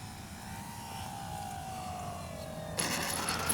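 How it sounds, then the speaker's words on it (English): An E-flite Sportix RC sport aerobatic plane flies overhead, its electric motor whining in a steady, slowly falling pitch, faint and distant, then a brief louder burst near the end. "this is a sport aerobatic plane"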